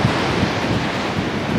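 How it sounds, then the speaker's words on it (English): Dramatic ocean surf on the rocky coast of El Hierro in the Canary Islands, a loud, continuous roar of crashing waves mixed with strong wind buffeting the microphone. "Quite a dramatic ocean here."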